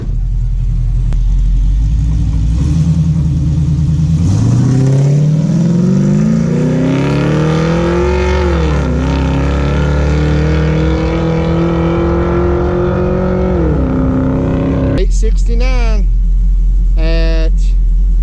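A Nova drag car launches down a drag strip at night, its engine roaring close and loud as the revs climb through the gears with pitch rising and dropping at each shift, then cutting back to a lumpy idle near the end.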